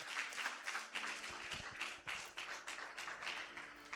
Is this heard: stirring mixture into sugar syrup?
no